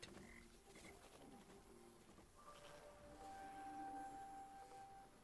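A frog croaks in the video game Hotel Galactic, coming as faint, soft calls against a quiet ambient background, with a few brief tonal chirps and no talk.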